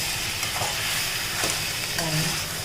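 Quail pieces sauté in a hot pan for quail gravy, with a steady, loud sizzle and frying hiss running throughout and a few stirring scrapes mixed in.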